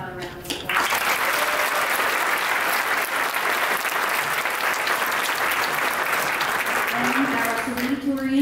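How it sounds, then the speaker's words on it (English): An evening audience at a 2022 senior awards assembly applauds the award recipients: sustained, dense clapping fills the room at steady loudness for most of the clip, with a voice starting to speak near the end. "How about a round of applause?"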